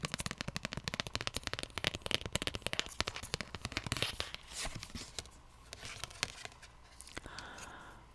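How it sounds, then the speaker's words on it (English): Tarot cards being shuffled close up in a quiet ASMR setting, with rapid dense riffling clicks and flutters that ease into softer sliding and tapping toward the end. "you did see me shuffle the cards"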